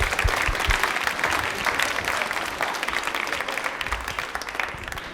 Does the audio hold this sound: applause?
yes